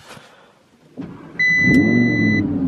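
An Audi R8 V10 Plus with its naturally aspirated V10 FSI engine is started by push button, and a brief starter whir flares into a loud, steady idle rumble close by.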